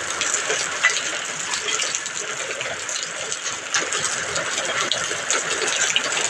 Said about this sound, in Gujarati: કેવો વરસાદ પડે છે જોઈ લો બધાય આખું ધાબું ભરાઈ ગયું અમારું તો કરા પડે નકરા